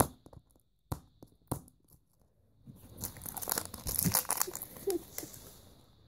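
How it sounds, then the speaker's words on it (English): Crinkly foil wrapper of a Frozen surprise egg being torn open, a few sharp rips at first and then a sustained close crackle of crumpling foil. "Alright, let's rip this one open."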